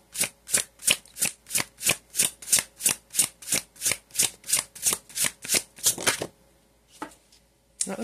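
Tarot cards shuffled close up in a fast, even rhythm of about twenty crisp riffling bursts, then a pause with a few faint card taps.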